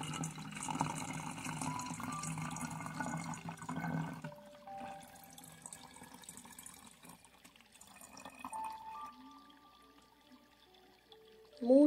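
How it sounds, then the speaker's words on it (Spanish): Water runs and splashes steadily into a bottle for a few seconds, then thins to a quieter trickle with faint clinks and a sharp sound at the end. "Vamos a echar el agua en la botella."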